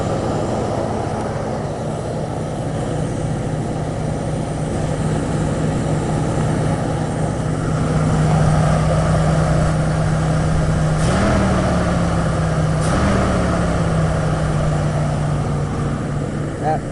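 A Ford engine idling after a cold start on a new carburetor, a steady, loud, continuous hum with a slight rise in level midway and two brief sharp clicks near the end.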